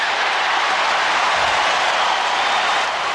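A 1993 NBA Finals Game 6 arena crowd between the Chicago Bulls and Phoenix Suns applauds a made free throw, a loud, steady wash of clapping and cheering noise lasting throughout.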